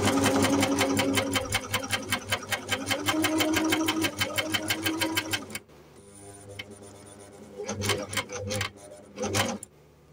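Lewenstein 900CS coverstitch machine stitching fabric: a loud, fast, steady mechanical chatter of needle strokes that stops midway, followed by quieter handling noises and a couple of short bursts of stitching.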